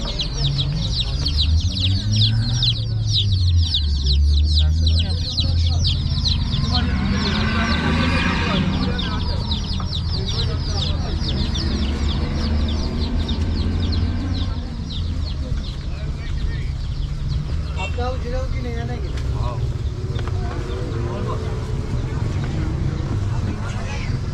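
Chickens and chicks cluck and peep at a local Thursday market in Siahkal, Gilan, northern Iran, a dense chorus of rapid high cheeps running throughout beside steady market bustle, with people talking nearby.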